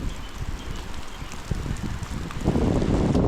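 Rain falling during the hot season outdoors at Pha Daeng, a steady hiss of drops mixed with wind buffeting the microphone, growing louder and denser toward the end.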